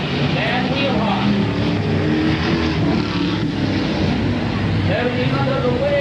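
Race cars roar around a track in a continuous, loud engine drone with rising and falling pitch as they pass, while an announcer calls the race over the noise.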